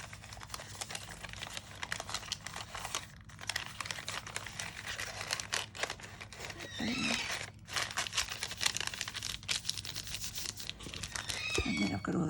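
Sheet of paper being creased and folded into a French-style envelope for a junk journal, giving close crinkling and crackling in uneven bursts as someone talks over it.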